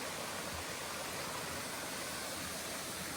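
A creek flows beside the Appalachian Trail in the woods, making a constant broadband rush of running water, steady and fairly close, with no other sounds breaking through.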